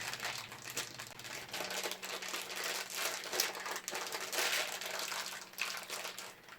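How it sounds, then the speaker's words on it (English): Plastic wrap being opened and crinkled during a router unboxing, a continuous close rustling and crackling that runs the whole time with a faint low hum underneath. "I can open this plastic wrap."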